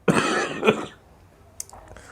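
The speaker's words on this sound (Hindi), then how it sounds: "खांसी थोड़ा बोलने से आ रहा है ना, इसको इग्नोर कीजिएगा" A teacher giving a poetry lesson coughs hard twice in quick succession, close and loud, followed by quiet room noise and a faint throat sound.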